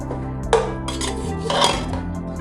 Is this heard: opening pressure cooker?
yes